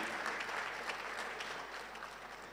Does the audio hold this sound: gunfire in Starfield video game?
no